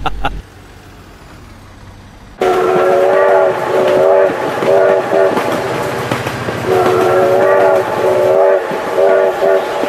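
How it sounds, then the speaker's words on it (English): A train thunders past in a car crash video game, a loud steady rumble with repeated horn blasts after a quiet start, and a voice exclaims over it. "Oh my God, train!"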